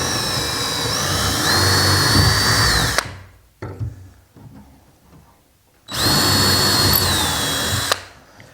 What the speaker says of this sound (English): I'm going to drill through these holes to mark my center points